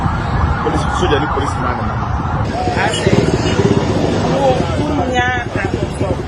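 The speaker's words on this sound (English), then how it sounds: "Hear the siren wailing." A siren wails in the distance in Obuasi beneath a constant wash of crowd noise and voices.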